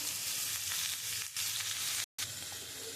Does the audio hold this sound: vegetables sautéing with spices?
yes